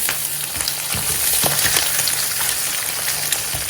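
An egg fries in a hot pan just after being flipped, for a Thai smashed fried egg. A loud, steady sizzle runs throughout, dotted with crackles and spits and no talking.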